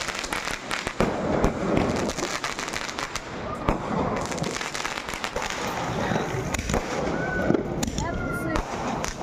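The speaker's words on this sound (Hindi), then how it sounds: "तो यहाँ पे रात में भाई ने थोड़ी सी आतिशबाजी की" Fireworks and firecrackers set off at night for a daughter's birthday celebration, a dense, continuous barrage of crackling pops and bangs lasting throughout, loud and close, with faint voices in the background.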